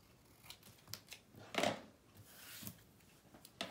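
Scissors trim the sides of a paper craft piece for a memory box and wallet project, giving a few quiet, scattered snips with one louder cut near the middle.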